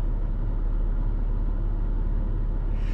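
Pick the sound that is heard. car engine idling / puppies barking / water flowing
car engine idling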